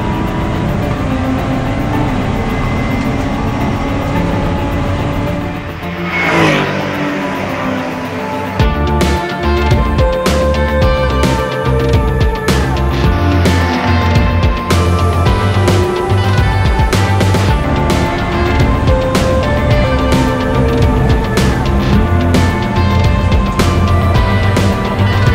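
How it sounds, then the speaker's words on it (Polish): Race cars in an amateur endurance championship final pull away together on asphalt. A loud, continuous layered engine roar with one car sweeping past early, then a dense, pulsing drone of several engines close by. "Cała stawka finałowego wyścigu amatorskiego Pucharu Endurance, pierwszego w historii, wyjechała na asfalt i zaczęła się prawdziwa jazda."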